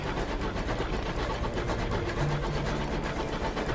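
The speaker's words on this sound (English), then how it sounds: "The sound of this engine is slowly going to drive me insane" A steady, droning engine hum from the video game Sunless Skies runs continuously throughout, even and unbroken, with no voices over it.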